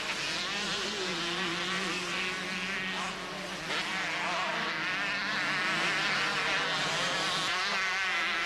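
Several Honda motocross bikes at a 1990 Dutch national motocross race pass in a continuous, loud, buzzing engine drone that barely lets up, with no talk over it.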